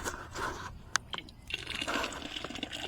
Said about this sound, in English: we have a nice kind of paint water that we can go ahead and mix in with our paint